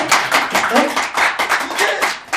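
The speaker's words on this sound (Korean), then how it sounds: "이게 제일 중요한 박수 한번 치고 가겠습니다." Crowd at a Korean party founding rally claps in uneven bursts, close and fairly loud, with spoken voices mixed in and over the clapping.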